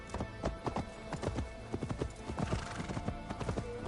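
Horse hooves clip-clop in a steady, close rhythm as a mount moves along uneven ground in Assassin's Creed Valhalla, with an occasional snort or whinny layered in and no talking.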